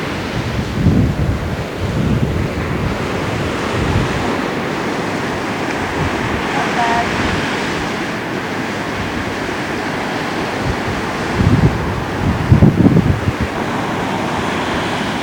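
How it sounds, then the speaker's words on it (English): Strong wind buffets the microphone while waves wash against a granite breakwater in Lagos, Portugal, making a constant loud roar with a few stronger gusts. "Get some shelter from the wind here, behind these huge granite blocks."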